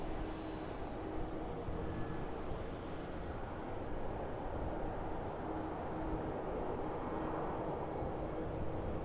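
A Qantas Airbus A330 departs Sydney Airport, heard as a steady, distant jet roar with broad rumble and wind-like wash, holding even throughout with no talk.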